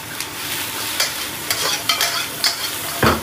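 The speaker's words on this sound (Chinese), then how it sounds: "把它香味炒出来，炒出来以后呢，把这个珍宝蟹放在上面" Dungeness crab stir-fried in a wok with onion, scallion, ginger and garlic gives a steady sizzle, broken by repeated scraping and clattering strokes of the spatula, loud and close with no voices.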